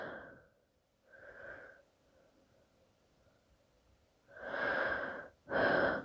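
Slow, audible breaths during a yoga stretch for back pain, a soft exhale, a second breath, then two louder, longer breaths close to the ear.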